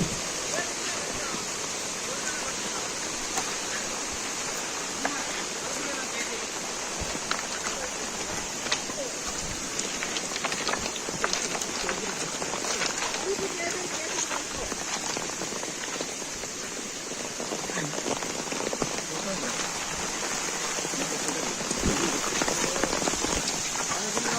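Waterfall at Sri Amara Lingeshwara Swamy Kona near Tirupati: a constant hissing rush of falling water at moderate level, with occasional voices faintly in the background.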